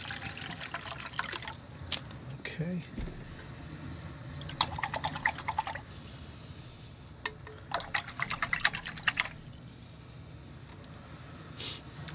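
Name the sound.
pouring bottled water to change paint water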